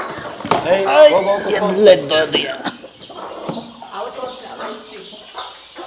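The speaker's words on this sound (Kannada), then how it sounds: "ಇವು ಐದು ಕೋಳಿನೂ ಕೂರಿಸಿದ್ದೀವಿ" Five brooding hens sit on clutches of eggs on a farm, letting out loud, close, repeated clucks and throaty grumbles, with people talking nearby.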